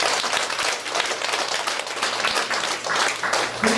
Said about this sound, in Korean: 우리 네 분들에게도 힘찬 박수 부탁드립니다